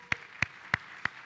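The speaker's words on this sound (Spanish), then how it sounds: "Démosle un aplauso a nuestro Señor." Four sharp, evenly spaced hand claps ring out close by in a church service, each crisp and isolated against a quiet background in a steady beat.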